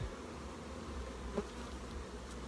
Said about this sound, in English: the bees are nicely in the top box, moved up